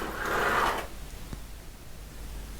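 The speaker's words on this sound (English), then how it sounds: "Okay, I've put the screw in, so this bar is now held in place." A screw and washer are fitted to hold a bar in place on a Siemens and Halske reperforator. A short, close, rattling mechanical whir lasts under a second and is followed by a single sharp click, then quiet room tone.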